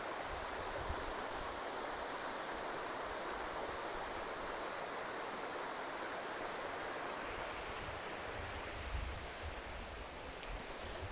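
Water in a stream rushes over a large bank of washed-down boulders with a steady, dense roar, constant and enveloping throughout, with no voices.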